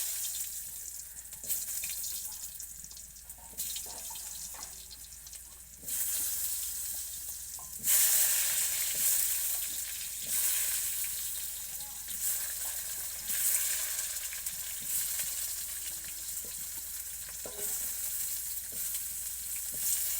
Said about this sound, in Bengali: আলু কটা ভেজে নেব।